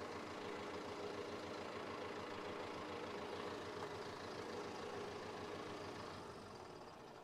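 A Mahindra Arjun Ultra 1 605 DI tractor with a modified diesel pump idles with a steady, loud, close diesel rumble that holds even throughout and eases slightly at the end.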